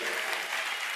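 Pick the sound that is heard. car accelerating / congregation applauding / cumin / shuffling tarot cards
congregation applauding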